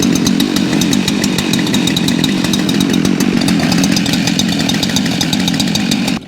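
A Husqvarna 372 professional chainsaw runs steadily at high revs, loud and close, with a continuous buzzing drone and no speech.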